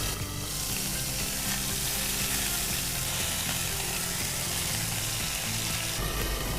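Chicken mince balls fry on a slow flame, a dense, even sizzle filling the whole stretch up close, with faint scraping clicks from stirring and nobody speaking.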